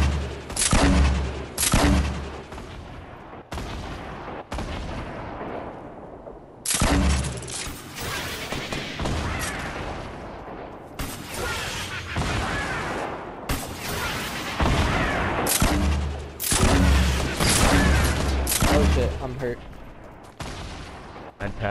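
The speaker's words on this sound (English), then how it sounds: "Keep shooting grenade launchers." Grenade launcher fire in Fortnite: repeated loud booming blasts in rapid clusters with short pauses between volleys, explosions and clatter throughout, with voices talking in between.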